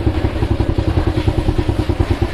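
A motorcycle idling at a fuel station queue in Pakistan, a close, steady rapid engine putter with regular pulsing clatter throughout.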